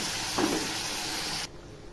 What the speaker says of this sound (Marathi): मिरची वाटलेलं ते धुवून मी पाणी टाकते